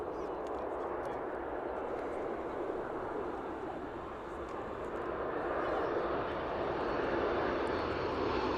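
A cargo aircraft descends toward landing at East Midlands Airport with a steady, loud engine roar that swells slightly as it comes closer.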